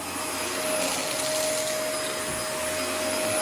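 Dyson DC24 upright vacuum cleaner running continuously up close, a loud steady whooshing motor drone with a thin high whine throughout, no talking.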